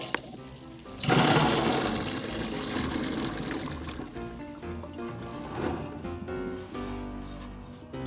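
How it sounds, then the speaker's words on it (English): Hot water drains from cooked red beans being made into sweetened bean paste, a sudden gush of pouring liquid that runs steadily for several seconds, with soft background music throughout. "Drain hot water."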